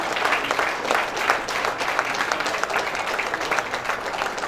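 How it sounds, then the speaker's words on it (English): An audience at an ONDC-MSME B2B business meet breaks into sustained applause, dense even clapping that fills the hall and holds steady throughout. "Let's give him a huge round of applause."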